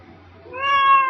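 A pet cat gives one clear, rising meow, close and fairly loud in a quiet room.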